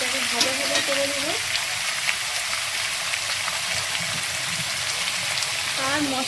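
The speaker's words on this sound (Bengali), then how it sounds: "এবার আলুটাকে ভাজা ভাজা করে নেব।" Potatoes frying in a pan give a steady, loud crackling sizzle like rain on a surface, with a few stirring sounds and a voice talking faintly in the background.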